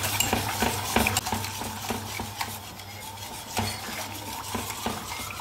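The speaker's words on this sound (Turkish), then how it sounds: "Bir ara karıştırarak kaynatıyorum." Vermicelli soup simmering in a pot on the stove, a utensil scraping and clinking against the pot in repeated stirring strokes over a steady low bubbling, close and moderately quiet, with no talking.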